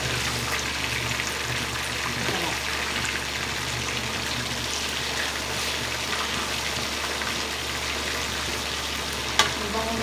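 A fish fillet fries in a hot pan, giving a steady, even sizzle and crackle of oil that carries on without pause, with a single sharp tick near the end.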